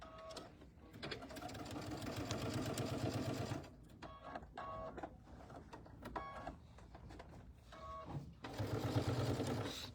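Sewing machine stitching down a quilted tablet cover, sounding as close, loud bursts of rapid mechanical whirring separated by short pauses.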